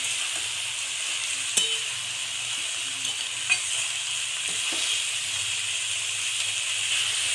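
Chopped cabbage frying in a pan for a vegetarian soup, giving a steady, soft sizzle and hiss with a couple of faint clinks from stirring, heard alone and fairly quiet throughout.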